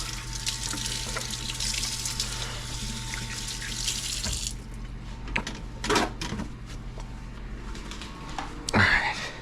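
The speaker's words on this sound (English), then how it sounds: "Wash our hands." Hands are washed under a running kitchen tap, a steady close rush of water that cuts off halfway through, followed by dripping, clinks and some rustling while cooking Cuban carne con papas.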